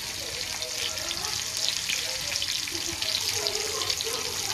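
Semolina-coated pieces fry steadily in a pan with oil, a continuous broad sizzle and crackle close by, with faint clinks and no talking.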